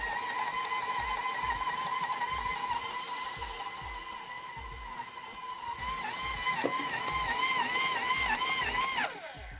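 A stand mixer kneads pizza dough with a steady, rhythmic motor whir and repeated thumping pulses, fairly quiet and close. The pitch shifts slightly near the end before it settles.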